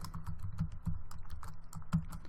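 Steady, quick typing on a computer keyboard, close and clear, with a rapid patter of key clicks and a few heavier strikes, entering a first Python program.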